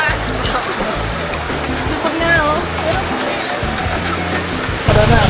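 River flowing along a riverside campsite, a constant close rush and splash of water filling the background, with people talking over it throughout.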